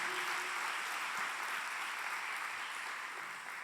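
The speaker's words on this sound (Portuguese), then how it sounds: "Vamos aplaudir o Senhor Jesus por isso?" Church congregation applauding during a worship service, a steady, even wash of many clapping hands heard from a distance at low level, tapering slightly at the end.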